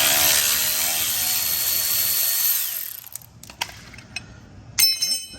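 A ratchet with a 10mm socket works loose transmission bolts on a Ford 10R80: first a dense, loud burst of rapid ratcheting, then scattered sharp clicks and pawl ticks in a quieter space.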